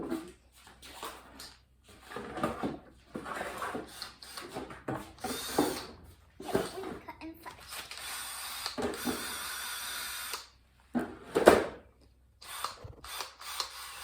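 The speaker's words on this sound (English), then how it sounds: "you need to drill a hole in the top of it" A drill whirs in short and longer bursts, biting into a plastic bucket, with clattering handling noises and pauses between runs, close by.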